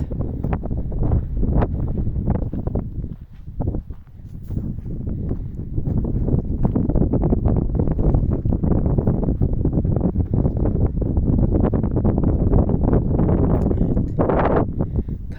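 A strong breeze blows over green fields beside a village house, heavy steady wind buffeting close to the microphone throughout with no speech.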